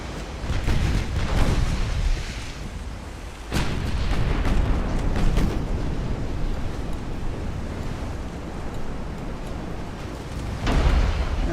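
Heavy main-gun salvos from a battleship in the naval game Ultimate Admiral: Dreadnoughts, set in 1890, rumble in deep booming bursts over a continuous roar, with sharper blasts near the start and another toward the end.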